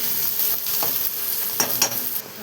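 A spoon stirs masala into ridge gourd and dal curry in a pan, with soft scraping strokes over a low, steady sizzle, close and fairly quiet.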